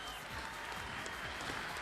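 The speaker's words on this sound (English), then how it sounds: "Round of applause again, ladies and gentlemen." A rodeo-style shearing-contest audience applauds the World Machine Shearing finalists, a dense, even wash of clapping that holds steady for a brief moment.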